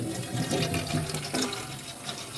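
Water running from a kitchen tap into a container, a steady close rush of flowing, filling water throughout the short stretch, with no talk.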